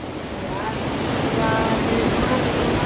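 Steady broadband rush of fast-flowing river water heard from the riverbank beside a house, a continuous loud wash without breaks.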